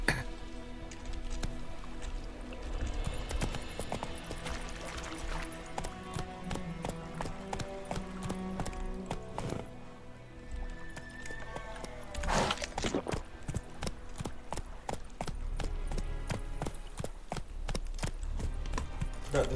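Horse hooves pound in a quick, even galloping rhythm in the video game The Witcher 3, a steady clip-clop running throughout at close range.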